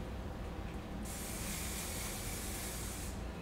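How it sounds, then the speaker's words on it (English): A single sustained hiss of anti-frizz humidity hair spray from an aerosol can, close and steady for about two seconds, heard alone over a quiet background. "I'm gonna take their anti-frizz humidity spray"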